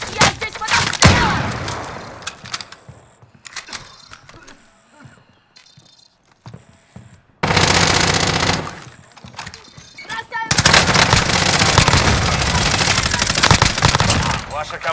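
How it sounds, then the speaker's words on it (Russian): Bursts of automatic gunfire in Call of Duty: Modern Warfare, loud and sustained in several long rattling stretches separated by quieter gaps, with game voice lines and radio chatter mixed in. "Я здесь под обстрелом!"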